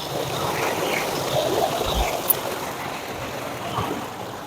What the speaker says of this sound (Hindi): पानी का इतना ज्यादा फ्लो है